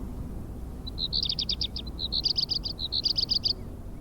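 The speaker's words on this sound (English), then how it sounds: "It is usually the males that produce the shrill sound by rubbing one tegmen against the other." Male crickets on a volcano chirp by rubbing their tegmina together, making a shrill, pulsing song in rapid rhythmic trills over a low background hiss.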